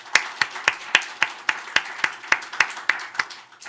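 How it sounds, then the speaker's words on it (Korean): A church congregation at a Friday prayer meeting claps in a steady, even rhythm, about a dozen sharp, evenly spaced claps, fairly close and with no talk. "우리 박수하겠습니다."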